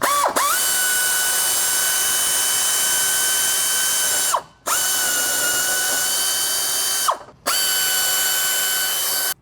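A power tool whirs loudly, removing bolts under the back of a 2019-or-newer RAM 1500 pickup during a lift install, in three long steady runs broken by brief pauses.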